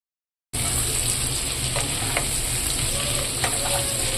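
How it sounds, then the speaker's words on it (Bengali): Potatoes fry in a pan with a steady, bright sizzle that starts abruptly after a short silence and holds continuously, with a few faint stirring clicks and no talking. "আলুগুলো সামান্য একটু ভেজে নিয়ে তারপর উঠিয়ে নেবো"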